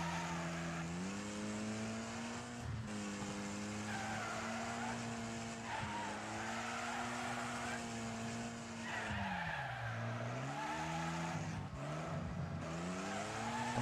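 A race car in Wreckfest slides with the e-brake, tires squealing in long wavering skids over a loud, sustained engine drone, with the engine pitch dropping and swooping.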